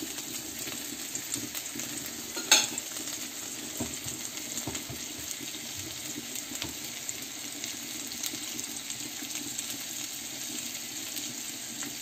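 Salmon frying in a pan gives a soft, steady sizzle, broken by one sharper clatter of stirring near the start and a few faint utensil taps, with no talk.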